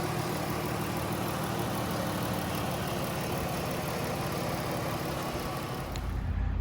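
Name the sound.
2015 Chrysler Town & Country 3.6 liter V6 engine idling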